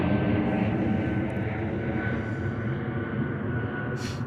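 An Air Baltic Airbus A220 passes overhead on approach to London Gatwick Airport, giving a steady, loud engine roar with whining tones that holds throughout the short stretch.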